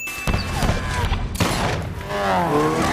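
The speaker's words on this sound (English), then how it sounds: "This is one of the only gunshots in this entire franchise to be super accurate." A sharp gunshot in Fast & Furious 6 bursts out amid noisy, clattering action, followed by a skidding, squealing vehicle sound, all loud and busy.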